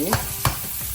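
Eggs fry in a pan for egg curry while a spoon stirs them, with two quick scraping strokes over a soft sizzle. The sound is short and close.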